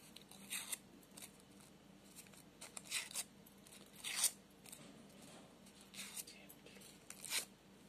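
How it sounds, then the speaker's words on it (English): Paper twisted and crinkled with scissors while making a craft strawberry, giving several short, close crackling rustles at irregular intervals over a quiet background. "Now you twist this paper. Take your scissors and twist it like this."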